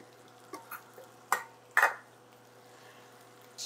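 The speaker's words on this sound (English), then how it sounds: "We're going to stir in the flour for 1 minute so that sausage gets nice and coated." Flour stirred into sausage frying over medium heat with butter in a pan for sausage gravy, heard as a few soft scraping stirs and two louder clattering strokes over a faint, steady sizzle.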